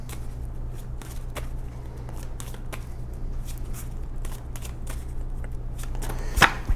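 Tarot cards are shuffled close up in a long run of crisp, rhythmic riffling bursts over a low steady hum, with a sharper snap near the end.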